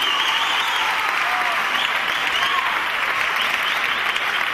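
A theatre audience applauds steadily, a thick, even wash of many hands clapping that holds at a consistent moderate loudness throughout.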